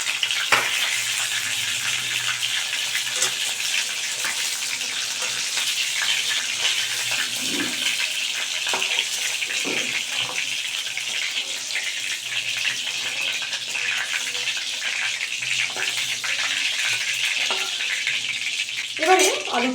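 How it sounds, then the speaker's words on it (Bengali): Potato pieces fry in hot oil with a continuous close sizzle, broken by a few scrapes and stirs of the utensil. "এবারে আলুটাকে আমি ভেজে নিচ্ছি।"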